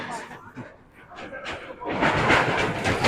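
Loud metallic rattling and clattering of a newly opened temporary bridge deck under footsteps, swelling after a couple of seconds and continuing, with voices talking over it.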